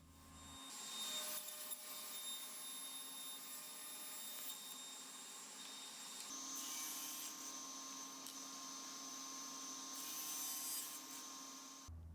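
White oak boards are milled and cut to final size by a woodworking machine, giving a loud, steady whining roar that runs unbroken with a brief shift in pitch midway, and no voices.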